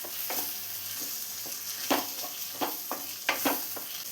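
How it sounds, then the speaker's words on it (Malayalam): A spoon stirs tomato sauce into a mixture in a pan for chicken pasta, with repeated scraping strokes at an uneven rhythm over a low background sizzle. "ഇനി ഇതെല്ലാം കൂടെ ഒന്ന് മിക്സ് ചെയ്തെടുക്കാം"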